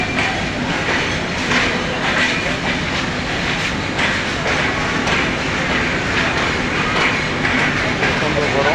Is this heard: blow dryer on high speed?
no